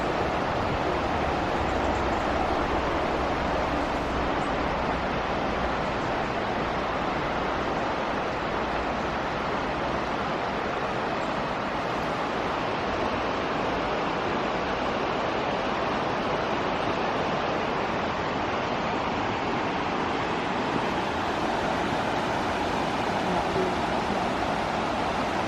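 Steady broadband rush of a river flowing beside a trail between Keswick and Threlkeld, continuous and fairly close with no breaks.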